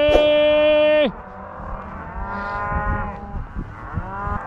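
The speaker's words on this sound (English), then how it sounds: "So it'll be even noisier when we take the cows off the calves." Cattle on a Montana ranch during a fall roundup: a loud, sustained moo opens, then several overlapping bellows from cows and calves calling back and forth at mid distance over low rumbling background.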